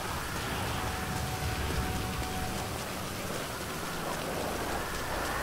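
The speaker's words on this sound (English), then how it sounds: "Crap, it's raining." Rain in the video game Grand Theft Auto: a dense, steady hiss of falling rain and pattering drops, constant and fairly loud throughout with no voices.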